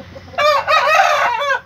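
A young seven-month-old cockerel crows once, loud and close, a single strained call lasting just over a second with a brief break near its start.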